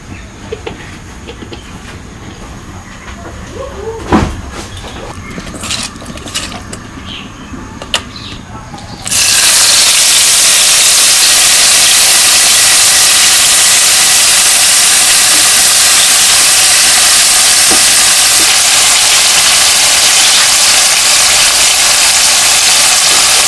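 Oil sizzles in a cooking pan with salt, turmeric and chili, a loud, steady broadband hiss that starts abruptly partway through and continues without a break.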